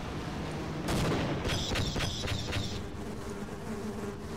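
A buzzing swarm of flies from an alien bug weapon in the first-person shooter Half-Life, rising in a loud burst with a few rapid sharp pulses over ongoing game noise, then fading.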